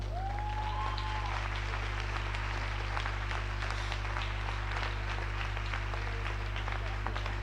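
Audience applause at a Spanish event, sustained clapping over a constant low electrical hum, with brief voices mixed in.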